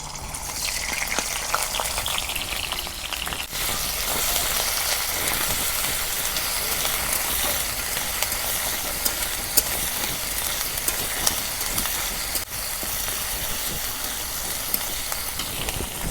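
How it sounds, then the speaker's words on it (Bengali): Onion paste frying in hot mustard oil in a wok, a dense, steady sizzle with crackling spatters that runs loud and unbroken throughout, close to the pan with no talking. "কড়াই গরম হচ্ছে, এখন সরিষার তেল দিয়ে দিই।"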